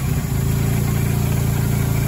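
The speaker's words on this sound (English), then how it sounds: "yeah, she's idling." A pickup truck's steady, low engine idle drones on without change, close and fairly loud, with no talking.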